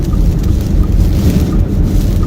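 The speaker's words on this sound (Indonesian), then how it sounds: "di hari ini kalau dilihat dari anginnya ini sangat kencang sekali" A strong storm wind roars steadily through Mecca, with heavy rain mixed in, a dense continuous rush filling the space without pause and without voices.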